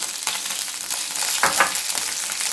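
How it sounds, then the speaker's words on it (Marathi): Peanuts and green chillies frying in a pan for Kolhapuri thecha, a loud close crackling sizzle with repeated scraping stirs, no speech. "शेंगदाणे थोडे परतून घेऊ। आता यामध्ये हिरव्या मिरच्या घालू"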